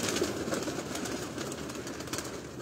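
Breeder pigeons coo on a Lahore rooftop loft, a soft continuous murmur of several birds, fairly faint and unbroken.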